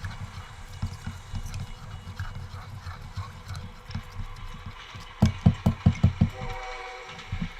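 A train rumbles along steadily. Near the end a quick, even run of loud wheel clacks rings out, then the sound tapers off, with no one speaking.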